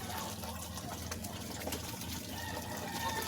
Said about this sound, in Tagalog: Patay muna natin ang tubig dahil tumutulo.